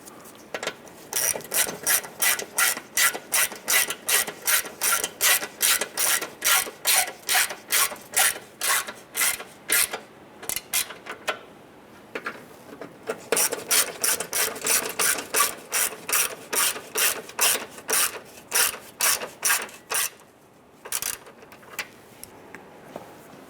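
A hand ratchet snugs down bolts on the A/C condenser of a 2005-2010 Chrysler 300, giving long runs of quick, crisp clicking strokes, close and fairly quiet, with short pauses between bursts.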